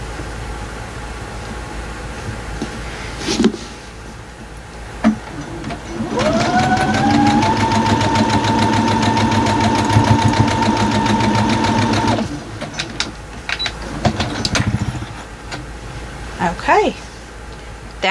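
A sewing machine stitches a quilt block seam, a steady mid-pitched motor hum with rapid needle clatter running for several seconds, bracketed by quieter handling noises and someone speaking over it.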